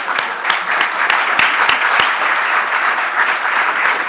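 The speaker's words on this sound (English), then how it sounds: "now everyone else clap for the science teachers" An audience at a talk on teaching climate science claps for the science teachers in the room, steady continuous applause with a few sharp individual claps standing out near the start.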